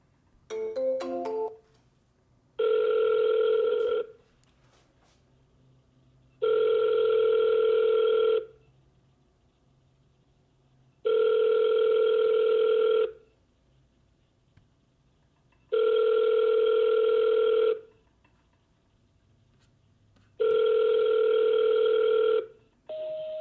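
Outgoing telephone call ringback tone, heard as five long, steady rings separated by regular pauses, loud and clear with no talking over them.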